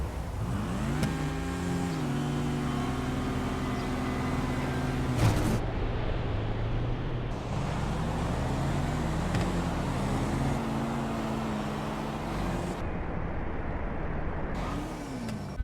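Drag racing cars in GTA 5 roar past with rising, shifting engine revs and a loud whoosh around the midpoint, engine tones climbing and falling in steady close waves, no voices.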